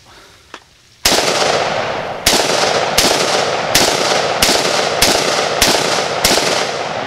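Zastava ZPAP M70 AK-47 rifle fired outdoors: a quick click, then about eight loud, sharp gunshots at a steady pace, each with a brief ringing tail, with no talking.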